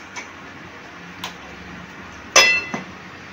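A lid for a pot of white pulao clinks into place on the rim with one bright metallic ring, trailed by a smaller clink and preceded by two faint taps, all close and in a quiet kitchen.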